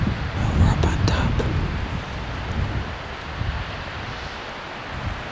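Wind blows across a hilltop during a stormy spring turkey hunting camp, buffeting the microphone in loud gusty rumbles that ease into a steadier rushing noise, with a voice speaking at the start.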